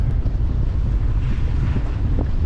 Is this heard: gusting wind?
yes